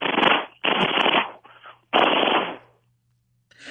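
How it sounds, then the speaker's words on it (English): A machine gun sound effect played on a radio talk show, loud rapid bursts of automatic fire in three short volleys separated by brief gaps, alone without talk. "like an adorable little girl's machine gun"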